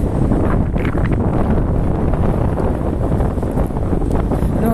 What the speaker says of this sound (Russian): Ветер уже довольно сильный. Вообще просто ветрище адский.